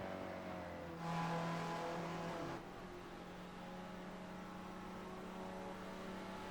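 Spec Racer Ford cars in an iRacing race cross the finish line at Michelin Raceway, a steady engine drone with one car roaring louder for about a second and a half before it fades back to the pack hum.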